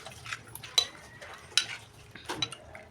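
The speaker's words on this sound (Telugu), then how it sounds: "ఇప్పుడు ఈ మిశ్రమాన్ని మొత్తం ఒకసారి కలుపుకుందాం." A spoon stirs a dal and tomato mixture with added water for cucumber and moong dal, giving a few sharp, close metallic clinks and scrapes spaced out over a quiet background, with no talking.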